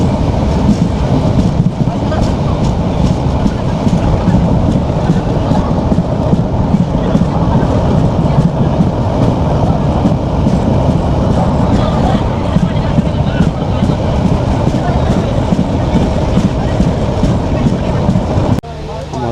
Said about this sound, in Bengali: এই যে আমাদের ট্রেন ছুটে চলছে